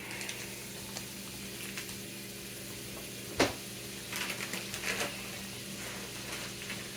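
Butter sizzling and crackling in a hot pan before corn is added for elote, a steady soft frying hiss with a few sharp pops and stirring clatters, close by with no talking.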